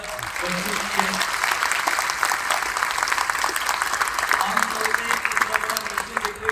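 A large gathering with many women present breaks into loud, sustained clapping, thick and steady throughout, with a voice faintly heard over the applause.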